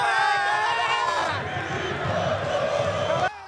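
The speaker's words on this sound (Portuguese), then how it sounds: "Muita comemoração dos jogadores e da torcida." Botafogo players and home supporters celebrate a 2–1 win over Remo in a Brazilian Série C football match, with loud, continuous crowd cheering and shouting that stays dense throughout.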